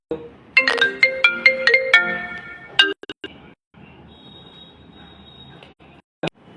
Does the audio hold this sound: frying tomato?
no